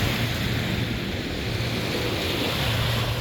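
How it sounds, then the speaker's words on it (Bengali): Sea waves roar against the shore in Kuwait, a loud continuous wash of surf with wind buffeting close to the microphone. "আমাদের সাগরে কি গর্জন শোনা যাইতেছে একবারে"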